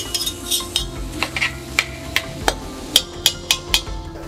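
Cooked beef sauté being lifted from a frying pan with a utensil, producing a series of sharp metallic clinks and scrapes against the pan over a faint low sizzle, with no talking.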